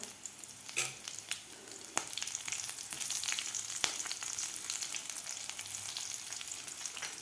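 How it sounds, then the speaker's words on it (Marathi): Slit green chillies go into a pan of fried garlic and cumin paste. A steady crackling sizzle follows, with sharp spits and a few utensil taps over the whole stretch. "लसूण आणि जिरेचं व्यवस्थित वाटण आपलं परतून झालेलं आहे तर यामध्ये दोन आपण हिरव्या मिरच्या घेतलेल्या आहेत उभा कट मारून ते घालायचे आहेत आपल्याला"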